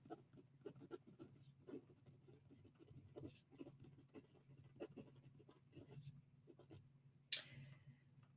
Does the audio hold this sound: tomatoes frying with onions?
no